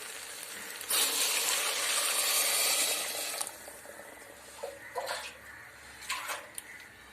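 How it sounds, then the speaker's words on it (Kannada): Water poured into a pressure cooker for bisi bele bath, a loud close gush lasting a few seconds, then several shorter splashes and trickles, with no talking. "ಎರಡು ಬಟ್ಲು ನೀರು ಹಾಕಿ. ಸಣ್ಣ ಬಟ್ಲಲ್ಲಿ 2 ಬಟ್ಲು."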